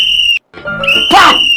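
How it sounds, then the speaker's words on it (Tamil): A pressure cooker whistle blows loud and close in two bursts: a short shrill blast, a brief gap, then a longer sustained whistle with a rush of hissing steam. "விசில் சத்தம் கேட்கும்"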